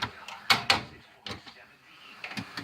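A drawer in a home mechanic's tool chest slides open, with a few sharp metallic clunks and rattles, close and moderately loud, while someone talks quietly between the knocks.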